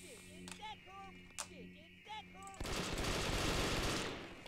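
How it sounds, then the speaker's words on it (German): Burst of rapid gunfire in the Brick Force video game, a loud continuous rattle in the final seconds, preceded by quieter game sounds and brief talk. "Schieß die Salven, das geht besser."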